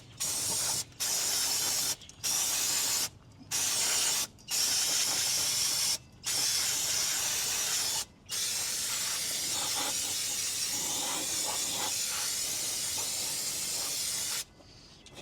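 Aerosol brake cleaner hisses in loud, close bursts onto the brakes of an old Ford F100 Flareside pickup, several short sprays with brief pauses, then one long continuous blast, no voices.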